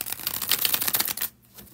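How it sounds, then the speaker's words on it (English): Playing cards are bridge shuffled, giving a quick, crisp riffling flutter for just over a second before a short, quieter pause, close up and with no talking. "here is the bridge shuffle"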